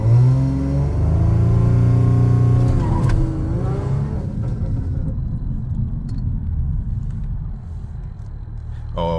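A tuned Audi A6 3.0T holds a loud, steady rev with a deep droning rumble, then sweeps down and settles into a lower, rough idle-like hum from inside the car, with a brief click near the end.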